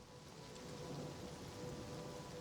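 Steady rainfall in the video game Oblivion Remastered, a continuous soft hiss of rain with faint low rumble, quiet and even throughout.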